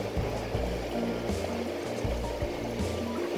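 Water pumps and bubbles in an aquarium fish shop make a steady trickling, burbling wash with soft low thuds recurring throughout, no voices present.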